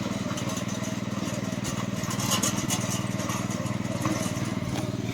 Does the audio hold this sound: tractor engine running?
yes